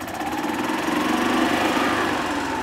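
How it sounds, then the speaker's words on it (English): A Club Car DS golf cart's small gasoline engine runs at a steady, buzzing idle close by, with an even mechanical drone throughout and no talking. "I can run the engine."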